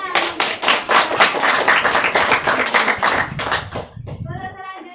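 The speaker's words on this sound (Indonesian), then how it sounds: "Ya, beri tepuk tangan." A classroom of students claps together in a rhythmic burst of applause that fades near the end, with children's voices chattering underneath.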